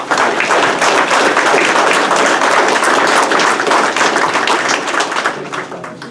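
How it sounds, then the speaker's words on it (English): A fire department banquet crowd claps steadily, a loud, dense burst of many hands that holds for about six seconds and begins to thin out right at the end. "So please, round of applause for everyone."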